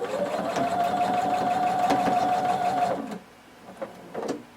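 A sewing machine stitches close to the folded edge of a tank top made from Simplicity pattern 1167, a steady close whir for about three seconds that then stops, leaving a quieter room.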